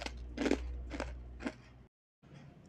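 Crunchy fried stick cookies are bitten and chewed close to the mic, giving three sharp crisp crunches in a row, then a brief silence and faint chewing.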